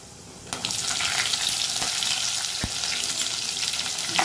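Urad dal and chana dal frying in hot oil in a pan, a steady close crackling sizzle with a few sharp pops, and no talking.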